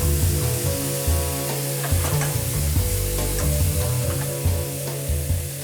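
Broth added to toasted risotto rice in a hot pan, a loud, close, continuous sizzle and bubbling hiss with steady stirring scrapes underneath and no talk.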